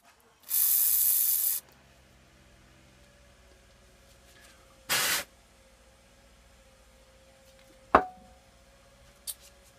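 Lacquer thinner sprayed onto an old part from a 1987 Snapper mower in two sharp hissing bursts, one about a second long and one shorter, followed by a couple of metallic clunks in a quiet workshop.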